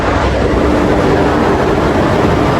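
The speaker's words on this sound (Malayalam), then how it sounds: "ട്രെയിൻ വരുന്നുണ്ട് മെമു അല്ല കേട്ടോ വേറൊരു ട്രെയിനാണ്" A train other than a MEMU rolls into a railway station, giving a steady, loud, broadband rumble that keeps up without a break and has no voices over it.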